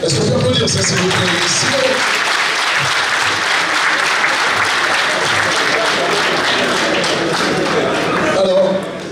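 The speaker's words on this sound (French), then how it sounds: "Est-ce qu'on peut applaudir ça, s'il vous plaît?" A studio audience claps in a loud, sustained burst of applause that carries evenly throughout, swelling slightly near the end.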